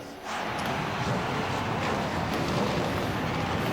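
Stock race car engines fire up together at New Hampshire International Speedway before the New England Chevrolet Dealers 250, a loud, steady roar starting abruptly and holding with no talk.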